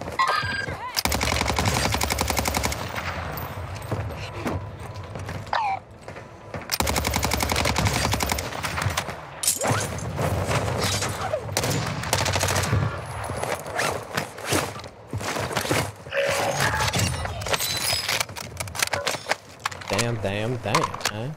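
Rapid bursts of automatic gunfire from the Warzone video game, loud and close, firing in long strings with brief gaps while someone talks over the shooting.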